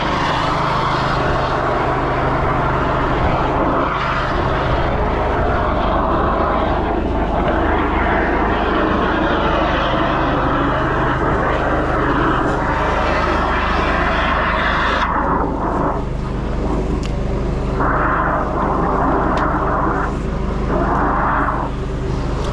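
A drain jetter runs continuously while clearing a blocked stormwater drain, giving a loud, steady broadband hiss and engine drone that holds throughout, with some shifts in tone toward the end.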